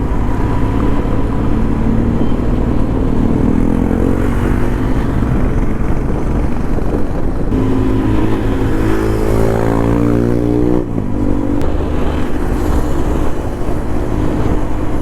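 A group of motorcycles with modified exhausts riding past on a road, a loud continuous engine drone with rising revs and shifting tones, close and heavy over wind rush.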